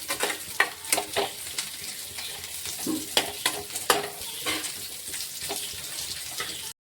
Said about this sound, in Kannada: ಈರುಳ್ಳಿ ಹಾಕ್ಕೊಂಡು ಒಂದು ಸ್ವಲ್ಪ ಫ್ರೈ ಮಾಡ್ಕೊಳ್ಳೋಣ.